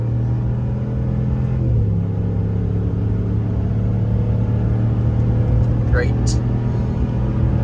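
A Ram 1500 pickup towing about 3000 pounds merges onto a highway, its steady engine rumble and road noise continuous throughout, with a short spoken word over it.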